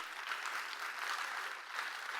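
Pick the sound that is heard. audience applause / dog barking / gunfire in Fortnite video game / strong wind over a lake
audience applause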